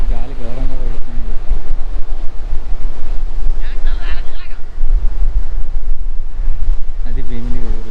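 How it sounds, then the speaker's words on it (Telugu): Strong wind at Bheemili beach buffets the microphone in loud, continuous rumbling gusts, with surf underneath and a voice speaking briefly at the start and end. "గాలి ఘోరంగా పడుతుంది."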